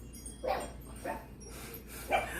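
A dog barks three times, moderately distant and faint, with the single barks evenly spaced against a quiet indoor background.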